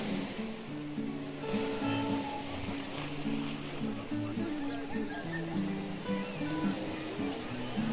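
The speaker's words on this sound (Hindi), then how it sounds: "अपने कलकल निनाद के साथ गंगा मैया सभी को मुक्त करती है।" Water of the Ganges meeting the sea at Gangasagar, a broad steady wash that murmurs on throughout, with low sustained tones layered beneath it.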